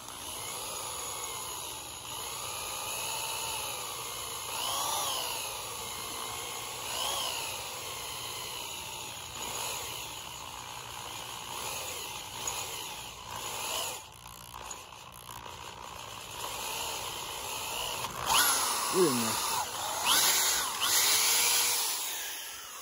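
A power drill bores holes in a hand-forged Dutch oven spoon, a steady whining grind rising and falling over a long stretch with short pauses, fairly close and loud.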